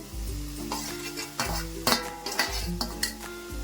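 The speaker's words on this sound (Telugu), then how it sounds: "ఒక్కసారి జస్ట్ ఇలా కలుపుకుంటే" Roasted semolina, carrot and khoa being stirred together in a pan for laddu, a steady scraping mix with a faint sizzle and a few sharper clinks of the spoon against the metal, close and alone without talk.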